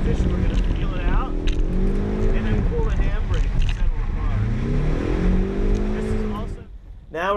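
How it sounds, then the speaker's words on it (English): An automatic car's engine revs and wails in rising and falling sweeps as it peels out through a drift transition. Someone talks loudly over the engine noise, which cuts off abruptly near the end. "Here comes the transition, we're gonna peel it out."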